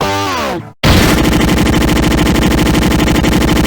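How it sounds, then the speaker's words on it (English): Screw-firing gun sound effect from the You Don't Know Jack video game: a descending electronic tone cuts off, then a loud, dense rapid-fire burst of distorted mechanical shots runs continuously. "Don't waste those screws! Keep firing!"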